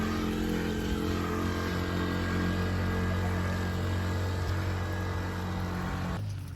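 A motorcycle engine strains loudly on an uphill off-road climb in Laurel, Batangas, a close, steady revving drone with strong humming harmonics that cuts off abruptly near the end.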